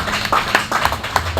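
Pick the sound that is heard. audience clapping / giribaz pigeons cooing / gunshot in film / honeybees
audience clapping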